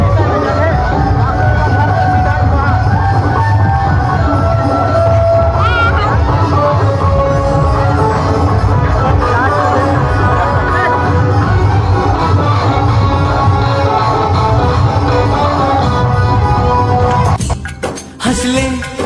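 Dense crowd hubbub at an outdoor Surangpani natak folk drama performance, many voices blending into a loud continuous babble with music underneath, cutting off abruptly near the end.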